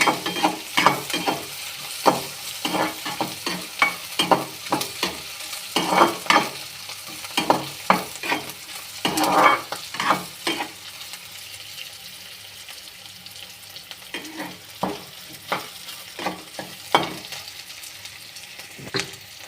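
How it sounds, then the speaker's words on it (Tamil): Onions sautéing in a pan for idli upma, with repeated sharp scraping and stirring strokes over a steady sizzle, close and fairly loud, with no voices. "வெங்காயம் நல்லா வதங்கிடுச்சு"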